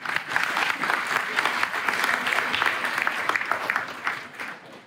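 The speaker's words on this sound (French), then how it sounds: "Merci, on peut applaudir." A school audience of pupils applauds at an event about a Tahiti mission, the clapping steady and fairly close throughout.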